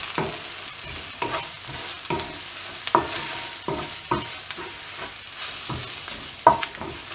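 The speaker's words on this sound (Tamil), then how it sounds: "இந்த எண்ணெயிலே வந்துட்டு இந்த எல்லா மசாலாவும் நல்லா ஃப்ரை ஆகணும்" Chilli and turmeric masala frying in oil for a mushroom cashew gravy, stirred with a spoon: a steady close sizzle broken by regular scraping strokes roughly every second, with no talk.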